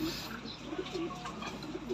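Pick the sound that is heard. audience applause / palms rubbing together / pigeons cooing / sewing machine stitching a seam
pigeons cooing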